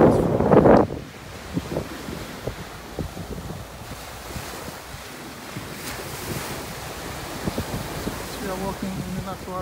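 Ocean waves and gusty wind on Pattaya beach in Thailand, surf washing in under heavy wind buffeting the microphone, with a loud gust at the start and faint voices in the background.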